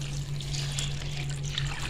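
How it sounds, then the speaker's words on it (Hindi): Water poured over freshly chopped spinach in a home kitchen while making mooli palak saag, a steady close splashing hiss with no talk. "अब इसमें हम पानी डालेंगे"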